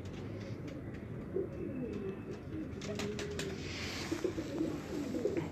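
Soft, low cooing from a domestic pigeon with orange eyes in a Faisalabad pigeon loft. The coos come in repeated rolling phrases, close and moderately quiet, over a constant background murmur.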